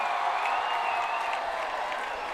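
Steady crowd applause at a SAFF U-19 men's championship football match between Sri Lanka and India in Arunachal Pradesh, greeting a player being substituted off; a continuous, even wash of clapping throughout.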